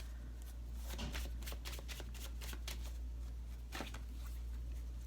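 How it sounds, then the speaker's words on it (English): A deck of Osho Zen Tarot cards is shuffled by hand: a close, quiet series of crisp riffling bursts and soft slaps repeating irregularly over a low steady hum. "I shuffled them a couple more times."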